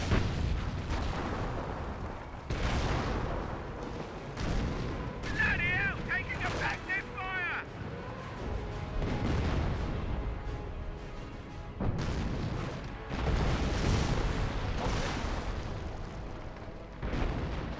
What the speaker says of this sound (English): Warframe barrage, Stew barrage, the rifle squad just getting hit by a lot of high explosive